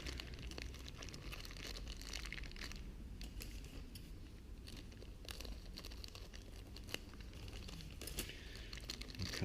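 Packaging for a new Toyota 86 GTS car part being opened up close, with quiet crinkling and tearing of plastic and paper, soft and continuous throughout.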